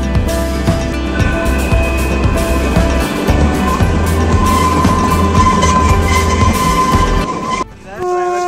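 Kalka Shimla toy train running on mountain rails in a Vistadome coach, a steady loud rumble and clatter of wheels with a tonal hum throughout, easing off near the end.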